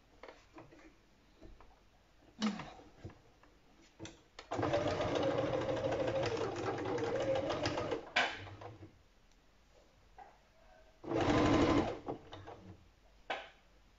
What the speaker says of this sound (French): on va démarrer la piqûre